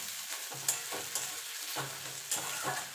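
Onion and garlic frying in fish oil in a pan, a close crackling sizzle broken by repeated scraping stirs, with no talk.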